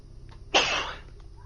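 A single sneeze, a short sharp burst close to the microphone over a quiet low hum.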